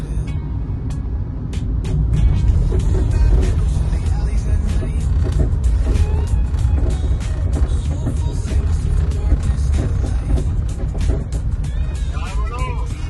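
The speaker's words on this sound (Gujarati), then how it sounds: "આ જુઓ ટ્રાફિક કેટલું વતારમાં થઈ ગયું છે" Dense road traffic rumbles continuously, with cars, buses and trucks passing and an occasional air-brake hiss, loud and close, while voices talk over it.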